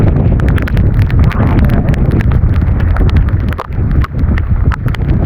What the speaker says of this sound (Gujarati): પવન તો જો ને કેવો પવન.